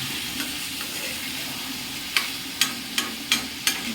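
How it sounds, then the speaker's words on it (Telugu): Tomatoes fry in a pan with a soft continuous sizzle, broken by several sharp clacks of a utensil stirring and tapping against the pan in the second half. "ఇది ఎట్లా వేపుతుంటారు ఫ్రెండ్స్."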